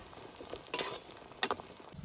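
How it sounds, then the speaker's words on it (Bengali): Potatoes fry in oil left over from frying fish roe, with a soft, fairly faint sizzle punctuated by two distinct stirring scrapes. "আলুগুলো একটু ভালো করে ভেজে নেবো"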